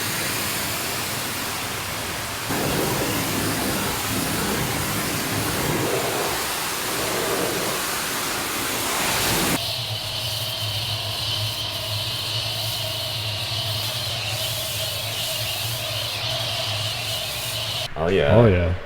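Water from a hose rinsing a car from the top down during a hand wash, a steady loud hiss and spray that shifts in tone partway through. Speech is heard over it.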